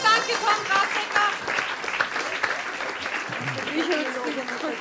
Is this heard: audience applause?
yes